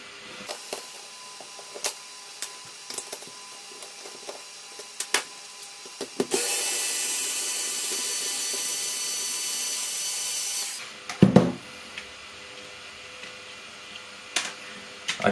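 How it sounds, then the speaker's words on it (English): Screws come out of the top case of a handmade hidden blade mechanism: faint scattered clicks and taps, then a few seconds of steady whirring from a small driver, followed by a brief clatter and more light handling noises. "Then we'll go ahead and take these screws out."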